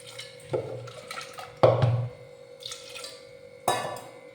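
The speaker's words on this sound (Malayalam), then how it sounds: "ഇനി ഒരു നികക്ക വെള്ളം ഒഴിക്കണം" Water poured from a vessel over cut taro pieces in a pot with turmeric, salt and curry leaves, coming in three short splashing bursts separated by pauses, close and moderately loud.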